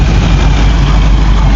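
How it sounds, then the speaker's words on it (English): A truck with a big turbo idling at a street car meet, a loud, steady low engine rumble with a constant deep drone close by. "A truck with a big ass turbo"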